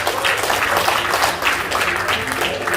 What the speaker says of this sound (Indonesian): Tepuk tangan Bapak Ibu untuk peraih motor dan mobil di Denpasar Bali